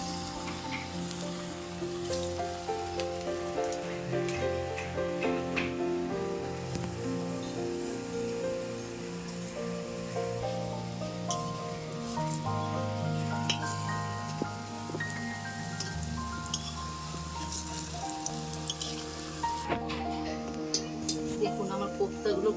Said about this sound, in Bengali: আমার তেলটা গরম হয়ে গেছে আমি আগে এই কটা ভেজে নেব এত লাল লাল করে ভাজবো